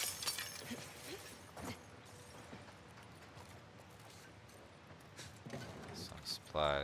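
Scattered crunches and clinks of broken glass in a PS5 video game, with a person talking faintly over the sparse game sounds and a sharper burst at the very end.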